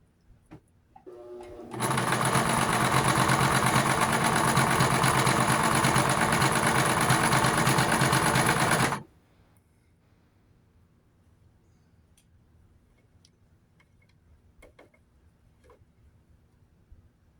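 A sewing machine runs a zigzag stitch through jeans in one steady burst of about seven seconds, a loud rapid mechanical whir up close, followed by quiet handling clicks.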